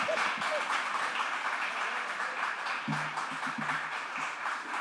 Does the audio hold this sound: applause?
yes